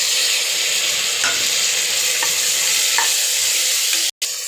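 Tomatoes with peas and mint sizzle steadily in a pan, a continuous close frying hiss broken by a few soft stirring scrapes and a brief dropout near the end, with no talking.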